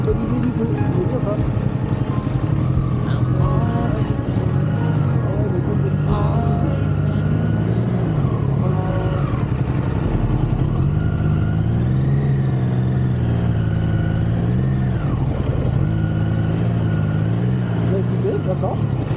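A Triumph Trident or Ducati Diavel roadster motorcycle on road tyres revs hard while stuck in mud, its engine rising and falling in repeated surges, with speech over the engine throughout.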